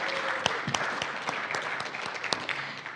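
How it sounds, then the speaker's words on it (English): An audience at a membership meeting gives a brief round of applause, a scattered flurry of claps with a few sharp, distinct hits in a short burst. "Give them a round of applause, please."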